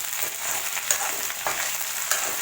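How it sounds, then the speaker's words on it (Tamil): Okra sautéing in sesame oil sizzles in a steady, bright crackle close up, with a few sharper pops and stirring scrapes punctuating the continuous frying hiss. "வெண்டைக்காய் எடுத்து கல்லெண்ணெயில போட்டு வதக்கி வச்சுக்கலாம்."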